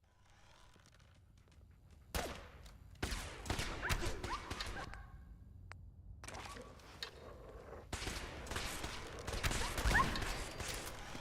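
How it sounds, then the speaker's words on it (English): Explosions and gunfire in the Fallout video game: sharp bursts and crackling shots come in clusters over a low rumble, loud and busy, with no voices. "And look, I made the explosions stick around again."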